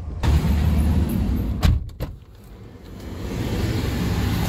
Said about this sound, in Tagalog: pababa na po ako ng sasakyan and punta na kami